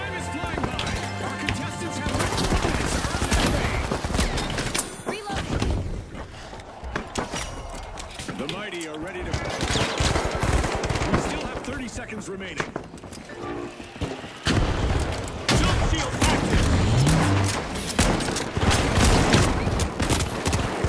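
A video game firefight with a buffed KS-23 shotgun, loud repeated gunshot bursts mixed with other firing and scuffling effects, with someone talking over much of it.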